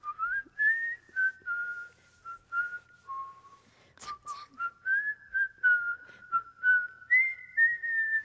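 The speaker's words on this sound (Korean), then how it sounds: "휘파람 소리 대박이다" Someone whistles a clear, bright melody in short phrases, note after note with brief pauses, close and alone with faint background hum.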